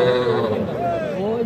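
A roughly four-month-old bull calf calls at a busy cattle market, a drawn-out, wavering bleat up close, mixed with nearby voices talking.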